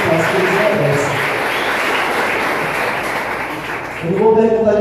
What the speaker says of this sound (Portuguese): Vamos aplaudir esses pais que eles merecem.